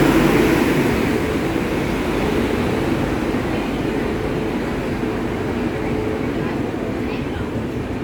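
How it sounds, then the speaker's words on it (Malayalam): A train pulling into a platform at Ernakulam North railway station, a loud continuous rumble and roar that stays steady throughout, with station noise mixed in. "നമ്മുടെ ട്രെയിൻ എത്തി."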